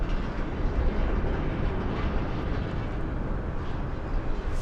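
Southwest Airlines Boeing 737 arriving at Las Vegas Harry Reid International Airport, a loud, steady broadband jet roar holding without a break for the full length.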